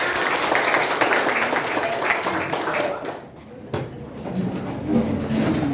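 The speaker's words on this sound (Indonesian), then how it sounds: "Tepuk tangan untuk kita semua." Students in a classroom applaud together, a steady wash of clapping with a brief dip partway through before it resumes, with some voices mixed in.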